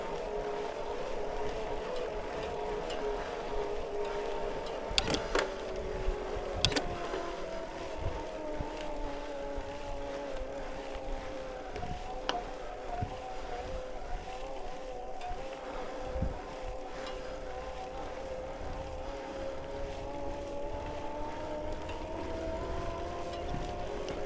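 A LeMond Dutch electric bike's motor runs quietly while riding, giving a low, steady hum with faint shifting tones under constant wind rush and occasional clicks and bumps from the road.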